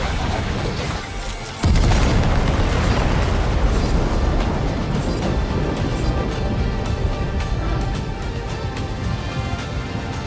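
Weapons fire and explosions in the video game Death Stranding 2: On the Beach: a heavy boom bursts in, then dense, loud rumbling blasts carry on without a break for several seconds.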